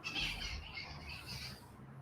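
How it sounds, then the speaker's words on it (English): Birds squawk and call outdoors, a noisy, shrill chatter in moderate-distance bursts over steady ambient background, with no talk. "You hear them birds out here."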